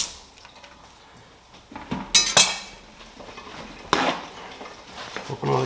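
Metallic clinks and scrapes of cans being opened in a kitchen while making steak chili, a scattered run of sharp close taps and rattles with short pauses between them.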